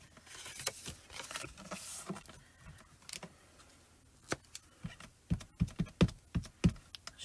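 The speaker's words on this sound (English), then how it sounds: "I'm just going to go around and stamp the edges" A rubber stamp tapped around the edges of a card base, giving a run of soft, close taps and pats that speed into a quick series of sharper knocks near the end, with no talking.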